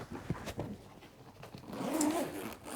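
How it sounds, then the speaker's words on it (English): A ProLite surfboard travel bag holding several boards is zipped up, giving a few short scratchy zipper pulls followed by a longer, louder rasping run near the end, close by with no talking. "All of the boards fit inside this ProLite bag, and I can"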